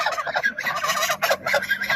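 Domestic geese on a farm give loud, rapid, overlapping honks and gabbling calls in quick bursts, close by, with no talk.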